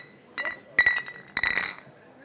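Drinking glasses clink together in a toast: three bright chimes spaced apart, the last ones followed by short ringing tails, close and clear against a quiet background.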